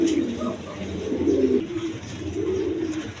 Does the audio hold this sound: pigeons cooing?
yes